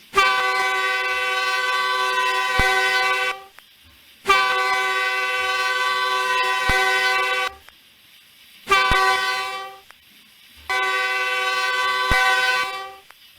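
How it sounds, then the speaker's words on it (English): An air horn of a QJ steam locomotive in the Trainz video game blows four long, loud, steady blasts, each lasting a few seconds, separated by short silent gaps. "So here's a listen to the air horn."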